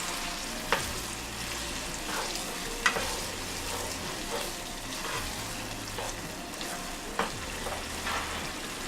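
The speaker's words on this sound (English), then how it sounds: "I'll add my seasoning. So stir it together." Eggs fry with a steady sizzle in a pan on a Nigerian breakfast stove while seasoning is stirred through, the utensil scraping and knocking against the pan a few times at close range with no talking.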